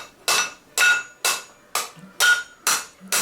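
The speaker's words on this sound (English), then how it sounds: "Basically, you just bang it down straight and then round it off like that." A blacksmith hammers hot steel while forging tongs: seven sharp, evenly spaced ringing blows, close and loud, with no talk.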